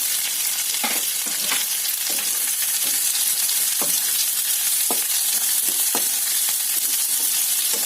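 Green chillies and onions fry in a pan with a constant, even hiss. Soft stirring scrapes and small pops come through it at irregular intervals, and no voices are heard.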